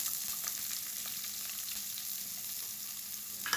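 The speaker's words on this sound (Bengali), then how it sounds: "এখন পেঁয়াজটা ভালো করে নেড়ে চেড়ে হালকা ভেজে নেব।" Chopped onions fry in hot oil with cumin, cardamom and cinnamon, giving an even close sizzle with light stirring and a brief rise at the end, with no speech.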